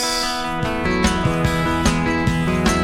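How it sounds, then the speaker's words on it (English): Bright, shimmering double-tracked 12-string acoustic guitar chords strummed in a steady rhythm, layered and full, played alone without voices. "I've overdubbed yet another 12-string guitar just to double it up there."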